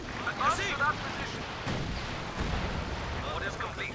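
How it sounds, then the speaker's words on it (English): LEFH 18 howitzers in the video game Company of Heroes 2 fire a few separate booming shots within a dense battle din, while a person talks over the action. "LEFG 18 howitzers stand ready to fire."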